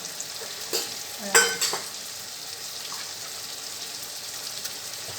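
Chili powder and cumin powder sizzle with a splash of water in a pan while being stirred for a tel tangra fish curry, giving a steady frying hiss broken by a couple of sharp scraping clinks of utensil against pan.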